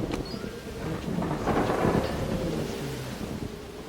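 A thunderstorm in the video game Jurassic Park Operation Genesis, with a deep rolling thunder rumble over a steady wash of rain, loud and continuous.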